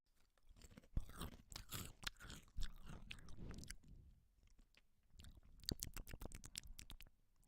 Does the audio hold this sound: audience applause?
no